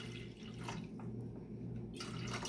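Bottled water is poured into a pot on the stove for a hot toddy, a steady close trickling and splashing that runs continuously for a couple of seconds.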